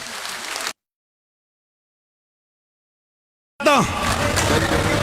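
Crowd applause at a village mahapanchayat in Anangpur, Faridabad comes as a loud, dense burst, then cuts to silence for about three seconds before the clapping resumes just as strongly.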